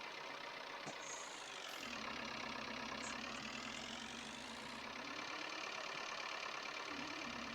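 A tractor engine idles close by on a farm, a steady mid-pitched rumble with a rising and falling whine over it, loud and continuous throughout with no talking.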